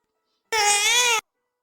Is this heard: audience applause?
no